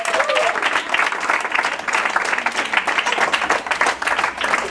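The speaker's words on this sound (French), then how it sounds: "Applaudissez" Lively audience applause at a school presentation of collège students, dense continuous clapping of many hands that stays loud throughout, with a brief voice or whistle near the start.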